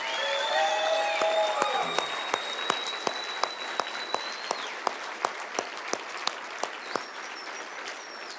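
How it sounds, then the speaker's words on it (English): Sustained crowd applause fills a hall at a Montana State Athletics Hall of Fame induction ceremony, a dense steady wash of many hands with a few sharper individual claps standing out near the end. "How about one more round of applause?"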